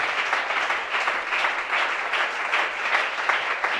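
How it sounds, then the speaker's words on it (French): A church congregation applauding loudly at a worship service, dense sustained clapping from many hands with slight swells in rhythm, close and full throughout, with no voices standing out. "Acclame très fort,"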